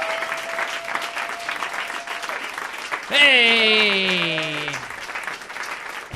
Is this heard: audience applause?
yes